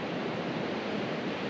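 Ocean waves break steadily on the coast at La Jolla where surfers are out, a continuous, broad wash of surf heard at a moderate level with no voices.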